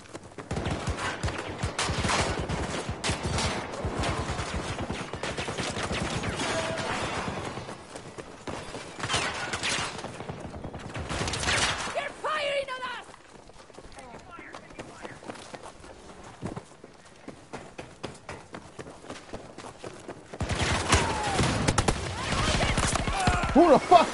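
Gunfire in the Battlefield 2042 video game, repeated bursts of rapid automatic shots in dense clusters with short pauses, loud and close, over background battle noise with occasional voices.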